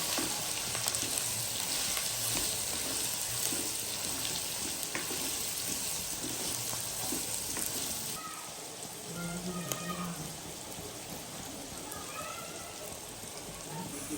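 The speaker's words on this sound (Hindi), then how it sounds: "अब हम इसको शैलो फ्राई करेंगे, यानी कि हल्का सा ब्राउन।" Steady sizzling and crackling of chopped onions shallow frying in hot oil in a wok, a dense continuous hiss with occasional clinks, no voices.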